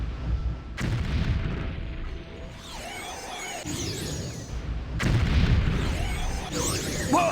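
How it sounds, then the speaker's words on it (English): Elemental Burst fire spell exploding in Morrowind, two heavy booming blasts with rumbling low ends and crackling, swirling tails, each erupting suddenly and ringing out over several seconds. "Elemental Burst, fire"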